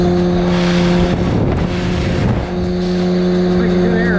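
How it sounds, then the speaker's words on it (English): A supercharged, lifted Honda Civic wagon sits idling with the supercharger running, a steady close engine drone with a whining tone, briefly muddied by a rough burst midway. "So let's kick on the supercharger."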